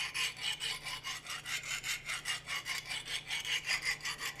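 A Ka-Bar knife drawn across a sharpening stone in about twenty quick, even rasping strokes, close and fairly quiet, with no voices.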